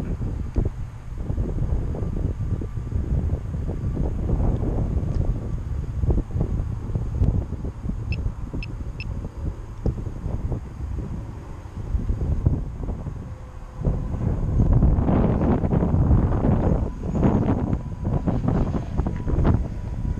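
Strong gusty wind, around 37 miles per hour, batters the microphone on a drone flight over a neighbourhood: a continuous loud roar and buffeting with surging gusts and a faint motor hum underneath, no talking.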